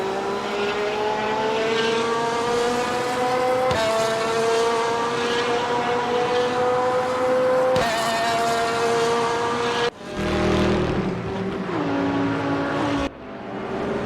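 Race car engine in RaceRoom Racing Experience, likely a Bentley, droning loud and close with sustained revs, rising pitch through each gear and sharp shift breaks near the end.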